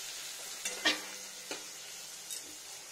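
Raw tomato and coconut roasting in a pan for a vegetarian paneer dish, giving a soft steady sizzle with a few clear stirring scrapes and clicks in between and no talk.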